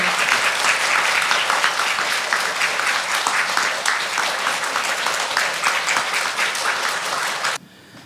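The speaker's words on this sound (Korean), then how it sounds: "박수 부탁드리겠습니다." Audience applause at a book concert event, dense sustained clapping from a crowd for about seven and a half seconds, then cutting off abruptly to near quiet.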